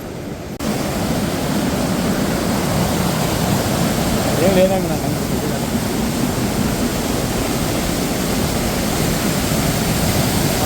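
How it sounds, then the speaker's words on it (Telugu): A hidden waterfall in Kullu pours in a constant, broad rushing roar that fills the whole scene, with a person speaking briefly over it. "అట్లయిన వాటర్ ఫాల్స్ అయితే ఇక్కడ ఉంది. పైన నుంచి వస్తూ ఉన్నాయి వాటర్."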